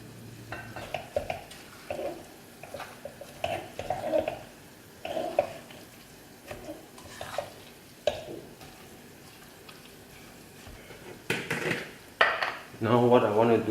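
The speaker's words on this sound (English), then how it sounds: "we are going to add in all our green herbs, mint, coriander and the green onions" Mint, coriander and green onions tossed into a pot for spicy chicken biryani, with intermittent scraping, clanking stirs and short bursts of sizzling in oil, close by, ending in a louder clatter and hiss.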